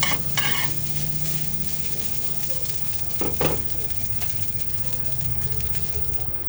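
Fish and eggs sizzle and crackle steadily in a hot frying pan, a continuous frying hiss with a brief clatter partway through.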